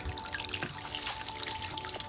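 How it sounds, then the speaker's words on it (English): Water trickles and drips into the soil of a potted houseplant, a close, gentle stream of small splashes and droplets at steady flow with no talk. "Just gonna water it."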